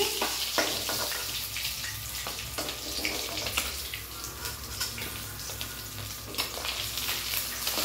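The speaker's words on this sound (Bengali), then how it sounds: "কড়া করে মাছগুলোকে ভাজবে।" Pieces of rui fish fry in hot oil, a dense, continuous crackling sizzle with occasional sharper pops and spatters, close up and without talking.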